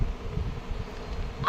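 A mosquito buzzes with a faint, steady hum that runs unbroken throughout against a quiet background.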